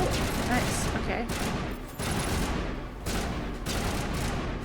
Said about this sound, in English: Everybody stop shooting for a second so that he'll poke his head up.